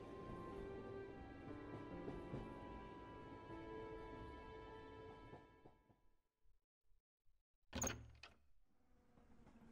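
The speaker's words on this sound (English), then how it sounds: "Now I can open the door and on I go." A door opens in the adventure mystery game The Passenger with a sharp mechanical clunk, followed by quieter thuds, after a fading musical drone.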